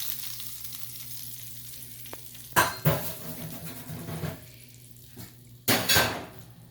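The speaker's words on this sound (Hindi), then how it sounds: "ये मैंने तड़का लगा दिया" Hot oil sizzles steadily with a low hum underneath as spices are tempered, broken by two sharp bursts of crackling and spattering as something hits the pan.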